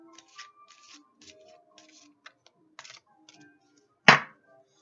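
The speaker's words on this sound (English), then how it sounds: "I'm shuffling the cards now." Soft riffling and flicking of tarot-style cards in short bursts, quiet and close, ending with one sharp louder snap as the deck is squared.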